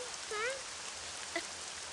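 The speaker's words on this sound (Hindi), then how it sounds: "बारिश में क्यों भीग रहे हो?" Steady rain falling outdoors, a dense even hiss across the whole stretch, with a faint tonal wavering sound briefly over it.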